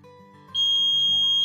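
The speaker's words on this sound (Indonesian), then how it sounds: "kalau misalkan pengen si buzzernya ini supaya nyalanya bip bip bip bip gitu ya" A buzzer on an ESP8266 NodeMCU ultrasonic sensor circuit switches on partway through and holds a loud, steady electronic tone over a faint low electrical hum.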